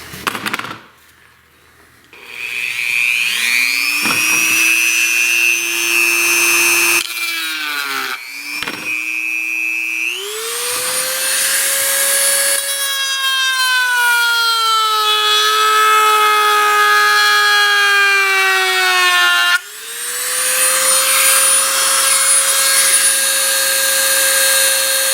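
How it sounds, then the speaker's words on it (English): Old steel cleaver being reshaped on a grinder, a loud sustained metallic whine with shifting tonal pitches, briefly dropping out around two short pauses before resuming. "So we can see where I need to grind it out slightly"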